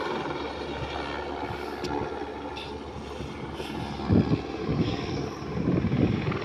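Helicopters circle overhead in a continuous droning rotor hum, steady and moderately loud, carrying clearing-out work for felled trees in a closed-off area, with faint outdoor rustles and thumps mixed in.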